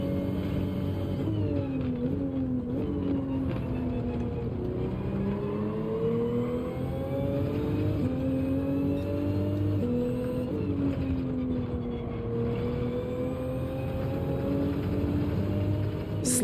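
A race car in the Gran Turismo 7 video game at Brands Hatch revs loudly and continuously, its engine pitch climbing through gears and dropping under braking into corners, with no talk over it.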